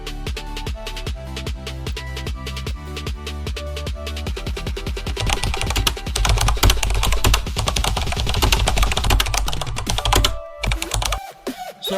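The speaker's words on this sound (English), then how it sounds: "So I want to type here" Fast typing on a computer keyboard, close and clear, with dense overlapping key clicks in bursts and a brief pause near the end before more keystrokes.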